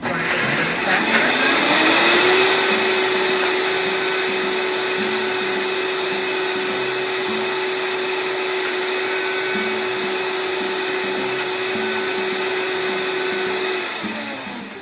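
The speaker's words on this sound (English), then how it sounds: "again for my Vitamix, I started on a setting of 2, I'm going to take it up to 4. That would be grinding a little faster" Vitamix blender grinding basil pesto, a loud motor that climbs in pitch, holds a steady high whine for about eleven seconds, then winds down, with a voice heard faintly over it.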